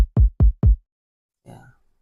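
Three punchy kick drum hits from a sample in FL Studio, evenly spaced and loud with deep low thumps and quick decay, followed by a brief softer noisy rattle after a pause.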